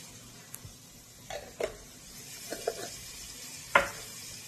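Minced garlic in oil gives a faint, steady sizzle underneath a few light utensil clinks and stirring knocks in a home kitchen pan.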